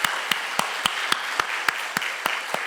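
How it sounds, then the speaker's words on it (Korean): Church congregation applause and cheering in a Korean service, a broad wash of crowd noise punctuated by sharp, evenly spaced loud claps in a steady rhythm, like rhythmic clapping led near the microphone. "우리가 할 수 있는 큰 박수로 함성을 한번 크게 올리겠습니다"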